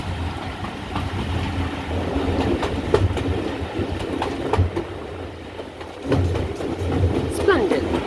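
Steam locomotive Dartmouth at work on the Paignton and Dartmouth Steam Railway, a steady rumbling run with rhythmic wheel clatter and rail clicks, heard fairly close with a faint squeal near the end.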